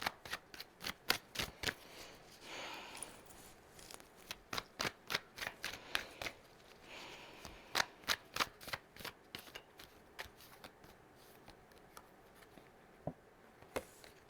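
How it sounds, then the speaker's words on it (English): Tarot cards are shuffled and pulled in a quiet, rapid run of crisp flicks and taps that slows and thins out toward the end. "let me pull one more card for that. I'm gonna pull another one."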